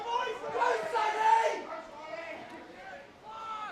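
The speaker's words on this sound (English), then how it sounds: "Saints crowd right up and about for it early" Sawtell Toormina Saints supporters cheer and shout from the crowd at an under-17 junior football grand final against Coffs Harbour Breakers. The cheering swells in a loud burst of excited voices, then eases back to a lower buzz of crowd noise.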